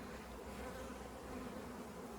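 Honey bees hum at an open beehive during a hive expansion with wax foundation, a dense steady buzz of many insects close by, with no talking.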